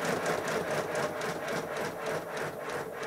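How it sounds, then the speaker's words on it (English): Old steam locomotive engine running with its reverser notched up one notch, giving a steady, slightly jerky rhythmic chuffing and mechanical clatter, close and continuous throughout. "It's running a bit jerkily because I've got it notched up one notch on the reverser."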